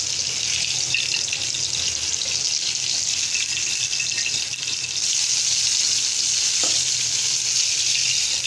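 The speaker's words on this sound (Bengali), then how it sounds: "কাঁচা টমেটোগুলো ভাজবো" Green tomatoes frying in a pan for a fish-head and cauliflower curry, a loud, continuous hiss of sizzling oil that stays even from start to finish with no voices over it.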